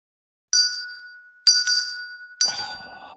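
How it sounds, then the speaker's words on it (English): A small handbell or desk bell struck three times during a podcast recording, each clear ring rising sharply and then fading slowly with a bright tone, close to the microphone, with no voices over it. "he's ringing his bell. The bell has been rung."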